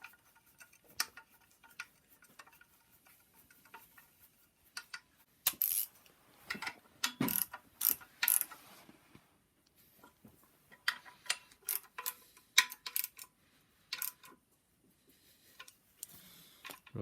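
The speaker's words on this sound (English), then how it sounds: "we're gonna have to torque these bolts here on the end" A torque wrench tightens bolts on a BMW N54 engine jig, giving quiet, irregular bursts of sharp mechanical ratcheting clicks separated by near-silent pauses.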